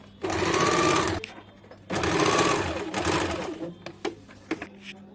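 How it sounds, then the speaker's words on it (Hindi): Sewing machine running close by as it stitches a petticoat, two sustained whirring bursts of stitching separated by a short pause, followed by clicks and handling noises. "इसको भी हम लोग चाप सिलाई डाल देंगे।"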